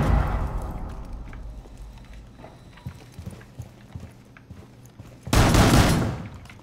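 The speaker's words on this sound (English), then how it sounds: "I'll start shooting." Gunfire in Rainbow Six Siege on the presidential plane map: scattered single shots and clattering footsteps, then a loud sustained burst of automatic fire near the end.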